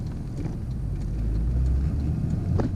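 A 2000 C5 Corvette engine runs steady and loud under acceleration during a skip shift test, a continuous deep rumble heard from inside the car.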